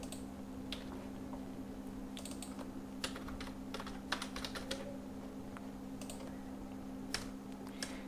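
Programming code being typed on a computer keyboard: irregular bursts of crisp key clicks, some quick runs and some isolated taps, close up over a steady low electrical hum, with no voices.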